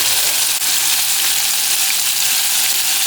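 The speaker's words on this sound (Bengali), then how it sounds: "এটা আমরা অল্প করে ফ্রাই করে নেব।" Boneless chicken pieces fry in a pan with a loud, dense, continuous sizzle throughout, close up and without any talking.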